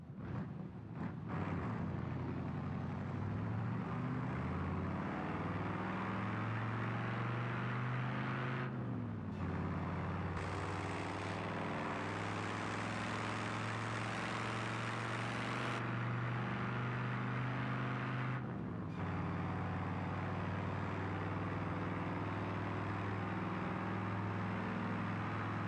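Loud car engine droning steadily while driving in BeamNG, a constant heavy roar with shifts in pitch and a couple of brief dips, no talking.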